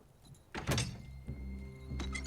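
A door handle rattles and a door thunks in a film scene, with one solid knock near the start and a second softer clunk toward the end over a quiet room background.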